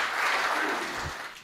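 Audience applause at a Hindi comedy poetry show, a dense, steady burst of clapping from a crowd that tapers slightly over a second and a half.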